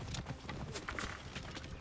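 Horse hooves in Assassin's Creed Origins, a quiet, quick clip-clop of a running horse repeating evenly throughout.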